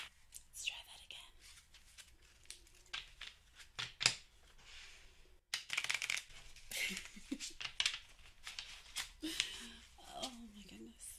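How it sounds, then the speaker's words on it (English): A deck of playing cards is riffled and shuffled in bursts of crisp flutters and taps during a soft-spoken blackjack game, close and quiet, with whispered talk between the shuffles. "Give these a little shuffle."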